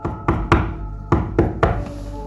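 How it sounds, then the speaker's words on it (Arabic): Sharp knocking on a door sounds at the far end of a corridor in a horror tale: two bursts of three hard thuds each, close and loud, over a low steady hum. "خبط جاي من آخر الطرقة"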